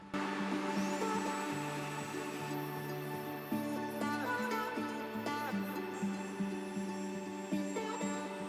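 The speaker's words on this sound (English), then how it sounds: "one of the good parts of the small handheld vacuum cleaner is that because of the small size" A Reikiya HVC10 small handheld vacuum cleaner runs steadily up close, a constant whirring motor hum with a high whine that shifts pitch slightly as it is moved around.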